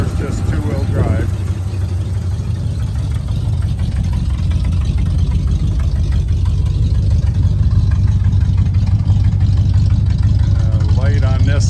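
A 1977 Ford F350 tow truck with a slight exhaust leak idles smoothly, a loud, steady low rumble lasting throughout, with a voice briefly audible near the start and end.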